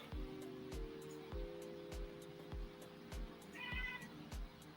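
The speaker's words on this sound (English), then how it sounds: "Oh, that was my cat." A cat meows softly a few times indoors, faint against a quiet room with a steady background hum and a regular ticking or tapping pulse.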